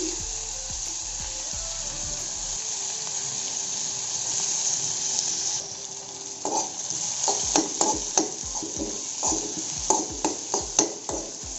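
Chopped onions sizzle in hot refined oil with a steady, close hiss. Midway, a utensil starts stirring, adding repeated scraping knocks over the continuing fry.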